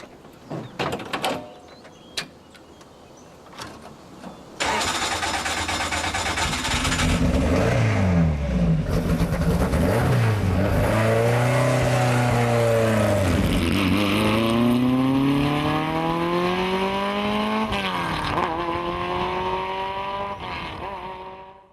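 A Lotus racing car starts up after a few clicks and thuds, then drives hard and loud with repeated rising engine revs through the gears, dipping on downshifts, alone without talk.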